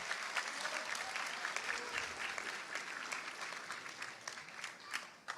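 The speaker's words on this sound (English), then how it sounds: "Give a round of applause for Talal." Audience applause at a school graduation ceremony, a fairly faint but continuous crowd clapping with scattered sharper claps, steady for the whole stretch.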